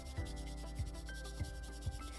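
Rhythmic rubbing strokes of sandpaper on wood, about four even passes, close and soft, over a steady background hum.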